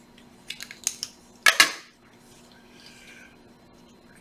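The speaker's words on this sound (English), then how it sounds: "just use scissors to cut the heat shrink." A few quick snips of scissors, then a sharper double cut through heat shrink tubing, close by in a quiet room.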